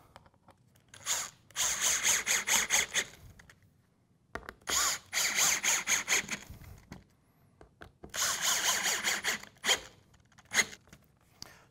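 A power drill drives screws through plywood into a plastic five-gallon bucket lid in three separate bursts, each a few seconds of whirring that bogs and ratchets as the screw seats, with short quiet gaps between.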